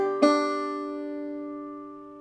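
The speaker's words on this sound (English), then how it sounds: "after that slide, we're going to just play the fifth string with our thumb" A clawhammer-style banjo plays two ringing notes close together, the thumb on the fifth string and then the index on the open first string, a single bright pluck that sustains and slowly decays on its own.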